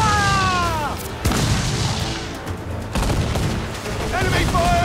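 Ship cannon fire during a naval battle in Assassin's Creed IV: Black Flag, loud booming blasts and rumbling volleys throughout, with shouted voices and game music over the barrage.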